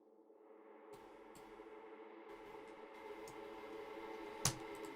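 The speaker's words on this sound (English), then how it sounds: "bouncing out the reverb tails of the vocals and then just using them as" Resampled reverb tails bounced from vocals, used as a transitional atmosphere: a soft, smeared harmonic wash that swells gradually, with faint ticking transients and one sharp click near the end, no voices.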